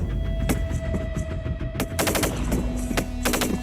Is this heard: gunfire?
yes